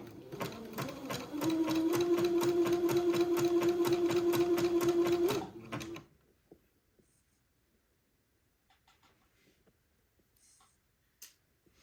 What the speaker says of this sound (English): So I'm going to sew to that little dot and then stop.